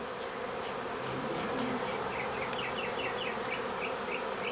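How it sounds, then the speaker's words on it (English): A swarm of bees arrives at a new hive box, a dense, continuous buzzing drone close by with a few individual bees zipping past. "A swarm is coming into our new hive."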